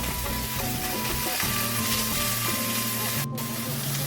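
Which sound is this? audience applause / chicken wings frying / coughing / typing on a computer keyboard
chicken wings frying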